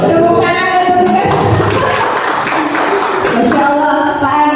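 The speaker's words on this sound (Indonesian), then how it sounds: "Tepuk tangan untuk tugas." An audience at an Indonesian school teacher-training event bursts into clapping, a dense wash of hand claps swelling in the middle over background music and voices.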